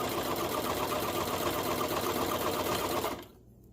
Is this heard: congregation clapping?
no